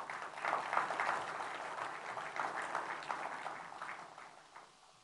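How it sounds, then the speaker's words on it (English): Audience applause at a business event welcoming Chinese investors, a steady patter of clapping at moderate distance that holds for several seconds and fades toward the end. "Let's give them a big applause."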